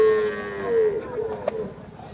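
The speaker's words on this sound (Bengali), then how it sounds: "এই যে বাছুর দেখেন, সুন্দর মাশাআল্লাহ" A calf at a cattle market gives one drawn-out moo up close, followed by muffled market commotion and a brief knock.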